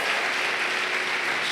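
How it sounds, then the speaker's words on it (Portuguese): A church congregation at an evening conference applauds, a brief, dense, even wash of clapping heard alone. "aplaude e dê um brado ao Senhor nessa noite"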